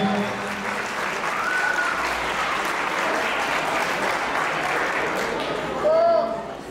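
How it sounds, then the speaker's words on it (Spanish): Guests at a quinceañera in Los Ocotes, Pénjamo, Guanajuato, clap steadily for the godfather, a dense, sustained round of applause with voices and a brief whistle-like tone mixed in, swelling slightly near the end. "ese aplauso para su padrino"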